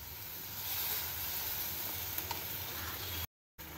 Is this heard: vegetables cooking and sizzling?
yes